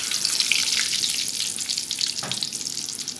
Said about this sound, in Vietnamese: mình chiên cho nó vàng sơ hai mặt vậy thôi ha